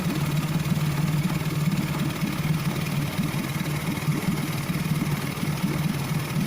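A rebuilt outboard boat motor idles with a steady, close, rumbling putter that holds an even level throughout without any break.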